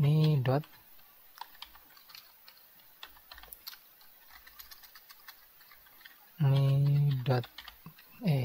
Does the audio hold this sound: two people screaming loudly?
no